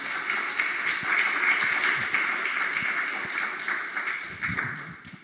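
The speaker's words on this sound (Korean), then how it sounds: "나오실 때 박수로 환영해 주시기 바랍니다" An audience at a university church service applauds to welcome a professor to the podium, a steady wash of clapping from many hands that holds for several seconds and fades slightly at the end.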